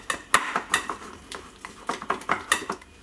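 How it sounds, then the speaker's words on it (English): A utensil mixes food colouring into cake batter in a bowl for a mini rainbow trifle, clinking and scraping against the bowl in quick irregular strokes, close and fairly loud. "And just mix it through."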